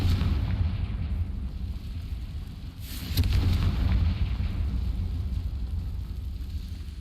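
A Confringo spell in the Hogwarts Legacy video game sets off a deep explosive boom over a low rumbling game backdrop, with a single burst standing out near the middle.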